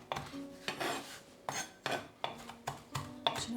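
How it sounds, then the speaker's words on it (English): Knife chopping fresh herbs with salt on a cutting board, a steady series of crisp strokes roughly every half second, close up with a gritty scraping edge and no speech. "using a knife, start chopping it"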